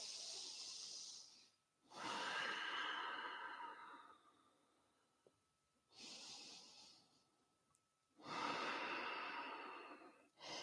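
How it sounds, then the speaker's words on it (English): Long, deep breaths during a Kundalini yoga exercise for the back, four slow airy inhales and exhales separated by short quiet gaps, close and soft with no talking. "Breathing into the ribs, seeing if you can feel the rib cage expanding with your inhale."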